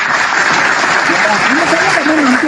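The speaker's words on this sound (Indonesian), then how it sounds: "Nah ini tepuk tangan dulu." Audience applause: a dense, steady wash of clapping from a crowd, with a voice speaking over it.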